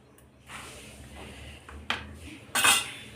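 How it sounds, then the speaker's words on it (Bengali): A fork whisks yogurt with ground spices in a bowl, making a few close, sharp metallic clinks and scrapes, the loudest near the end. "এই কাঁটাটাকে দিয়ে আমি এটাকে ভালো করে এরকমভাবে ঘুটে নেব"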